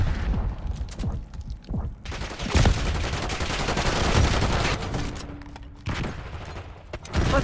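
Dense, loud gunfire from Call of Duty Black Ops 6 online multiplayer, sustained automatic bursts and heavy booming impacts packed together with only brief gaps.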